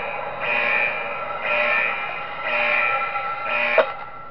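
An alarm sounds in the Five Nights at Wario's video game, four evenly spaced buzzing blasts of about half a second each, with a short click at the end.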